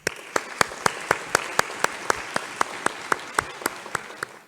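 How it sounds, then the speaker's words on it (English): Applause at a children's prayer and action event, a steady bed of clapping punctuated by sharp, evenly spaced claps in a strong regular rhythm, fairly close and sustained throughout. "another round of applause"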